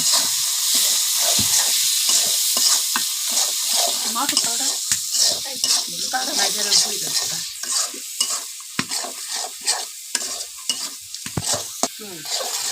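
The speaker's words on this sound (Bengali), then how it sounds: "এই যে এখন মাছটা যে ভাজা ভাজা হয়ে গেছে।" Crushed shrimp stirred and fried in spiced oil in a pan: a steady close sizzle broken by repeated scraping strokes of the stirring spoon, continuing throughout without a break.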